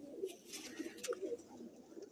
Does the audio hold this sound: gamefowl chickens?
no